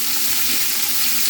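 Potato, carrot and onion frying in rendered pork belly fat for a stew, a loud, close, continuous sizzle with a dense crackling hiss throughout and no speech.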